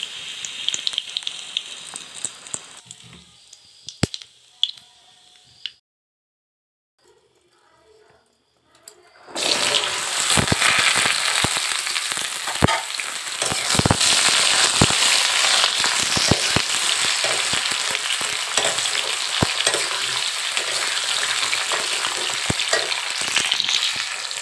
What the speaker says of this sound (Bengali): এবার আমি পাঁচফোড়ন দিয়ে দিচ্ছি। দুটো তেজপাতা দিয়ে দিচ্ছি।